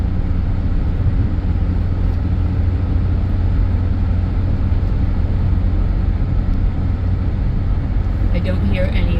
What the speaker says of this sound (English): it's driving well, it's driving smooth